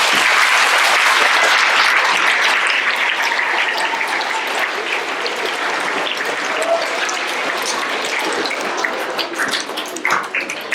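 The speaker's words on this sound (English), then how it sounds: "big round of applause" A school awards ceremony audience gives a big round of applause, with dense, loud clapping from a roomful of people that starts at full strength and thins slightly toward the end.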